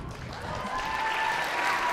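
Audience applause from a studio crowd, a steady wash of clapping that holds at a fairly even level for a couple of seconds with no talk over it.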